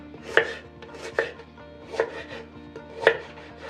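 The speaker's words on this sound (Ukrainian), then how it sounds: "я салеру розріжу на три частини і буду різати такими кусочками" A knife chops celery into pieces on a board, four crisp, evenly spaced thuds about a second apart, close and clear with no talking.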